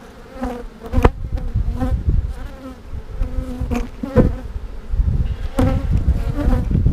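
Honey bees hum and buzz densely around an open hive during frame inspection, a close, continuous drone with sharper passes as bees fly near.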